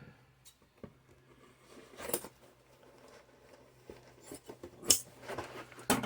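A few short, crisp snips and rustles of scissors cutting a 10-inch piece of packing foam while packing a tiki mug, close and fairly quiet, with brief pauses between cuts.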